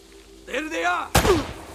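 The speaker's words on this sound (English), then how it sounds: "They're shooting at you too, you know." Enemy gunfire in Uncharted: Drake's Fortune, a sharp loud burst midway through, preceded by a voice talking over game noise.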